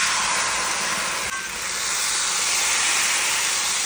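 Appam batter hitting a hot oiled pan makes a steady, loud, broadband sizzle and hiss that lasts the whole time, with one brief dip partway through.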